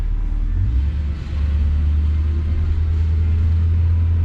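A 1966 Ford Galaxie 500 convertible engine idles steadily, close and loud, with a deep low rumble and a slight dip in pitch partway through, running smoothly without talk.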